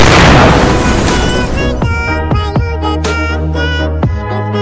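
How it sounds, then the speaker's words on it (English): A loud, sustained roar of explosions with several sharp booming blasts and ringing debris crashing throughout, dense and close. "Explosions engulfed the building"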